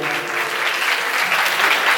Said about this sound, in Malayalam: നമുക്ക് ഇവർക്ക് നല്ല ഒരു കൈയടി കൊടുക്കാം